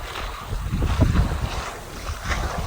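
A sailboat under sail in a good breeze while tacking, with a steady rush of water along the hull and wind buffeting the microphone, louder surges around the middle, no voices.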